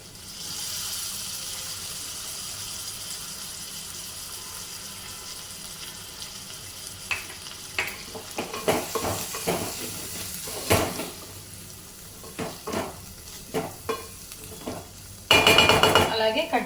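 A chana dal curry with drumsticks, tomato and egg being stirred in a frying pan, soft sizzling giving way to a string of scraping, clattering stirs near the end, with no talking.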